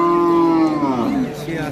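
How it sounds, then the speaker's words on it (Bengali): A Jersey cow at a cattle market lets out one loud, close, drawn-out moo that falls in pitch, with faint crowd murmur behind. "এটা হচ্ছে আপনার জার্সি একটা গরু"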